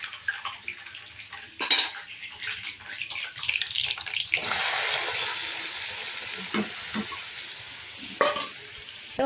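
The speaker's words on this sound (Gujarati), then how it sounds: "શાકનો વઘાર કરી દઈએ આપણે" Vegetables are tempered in hot oil in a home kitchen. Clinks and clatter of utensils come first, then a loud sizzle bursts out midway and settles into a steady fry, with a few more scrapes and clinks.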